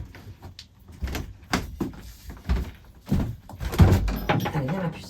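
A house door is opened for a dog scratching at it, giving a series of close thuds, knocks and rattles of the door and latch, with a voice speaking in between.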